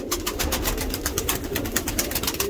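Pigeons coo in warm spring weather, a pulsing series of low throaty calls repeating in a steady rhythm, close by and fairly loud, with no voices.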